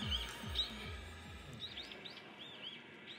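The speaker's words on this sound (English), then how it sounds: "I'm hearing birds chirping and a stream running and leaves rustling." Birds chirp and tweet from a speaker playing a live forest feed, high bright calls repeating over a low steady hum and faint background noise.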